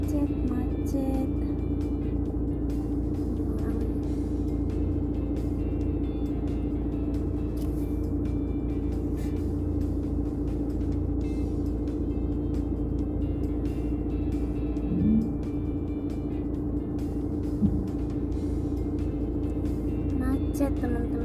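Traffic jam on a European road at school run time, heard as a steady low engine drone and road rumble from inside a vehicle, with a couple of faint bumps and no clear passing cars.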